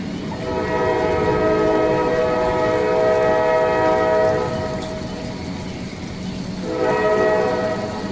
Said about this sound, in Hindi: रेलवे स्टेशन पर आखिरी ट्रेन आई